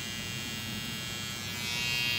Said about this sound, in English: And that's all I'm going to do with the trimmer.